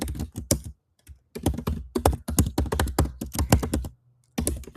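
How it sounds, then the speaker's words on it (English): An email address being typed on a computer keyboard, quick close key clicks in irregular bursts with brief gaps, loud and crisp, no voices. "You will type their email,"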